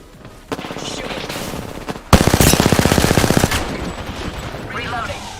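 Video game gunfire rattles in rapid automatic bursts, a short volley followed by a longer, louder sustained stream of shots with a brief pause between, close and dominant.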